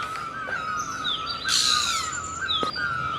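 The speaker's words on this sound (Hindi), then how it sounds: "और कोयल बोल रही है और इसी टाइम में बोलती है।" Asian koel calling from trees in the morning, clear repeated whistled notes over a steady chorus of other birds, with a brief brighter burst of chirping partway through.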